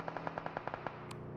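Rapid bursts of automatic gunfire in the PUBG Mobile battle royale game, about ten evenly spaced sharp shots over a second, then a couple of fainter, more distant pops.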